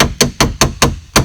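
Six sharp, evenly spaced metallic taps of a hammer on a 19 mm socket, seating the front lock cylinder of a Cadillac XLR, close and loud with no talk.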